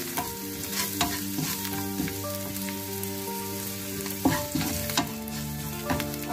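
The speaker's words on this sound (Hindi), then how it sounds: "अब इन सबको अच्छे से मिक्स कर लेना है।" Red chili powder, coriander powder and salt being stirred in a frying pan, a steady close sizzle with repeated scraping and tapping of a spoon against the pan.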